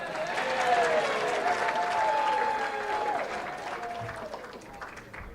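An audience at a high school athletic hall of fame dinner claps in a dense, sustained round of applause that fills the room, steady throughout and fading slightly toward the end.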